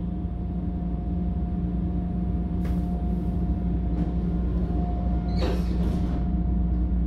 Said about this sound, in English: enjoy this rainy day train ride through Chicago